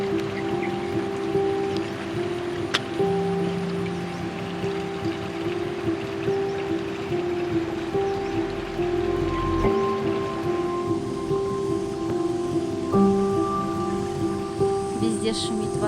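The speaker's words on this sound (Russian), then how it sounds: "Везде шумит вода, кузнечики, стрекозки и какие-то птицы." Water rushes steadily down through the Jatiluwih rice terraces in Bali, making a continuous nearby trickling wash with thin insect drones layered over it.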